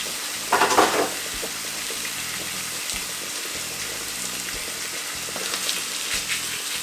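Salmon pan-frying: a steady, close sizzle with a short, louder crackling flare near the start, then an even hiss throughout.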